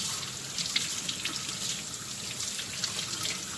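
Turkey wings rinsed under a running kitchen sink tap, a steady splashing hiss of water with small irregular spatters, close and moderately quiet, no talking.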